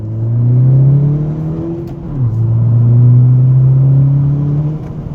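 A 10th-generation Honda Civic Si engine, tuned with a Ktuner V1.2, revs up steadily with a rising whine, briefly drops as it shifts gear, then climbs again in a loud, close, sustained pull.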